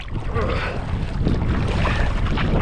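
Wind buffets a bass fishing boat on open water, a steady broadband rush with gusty swells and microphone buffeting throughout, loud and close with no speech.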